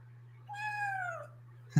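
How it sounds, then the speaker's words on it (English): A single drawn-out cat meow, close and clear, falling slightly in pitch, followed by a brief bump near the end. "Let me get a little meow."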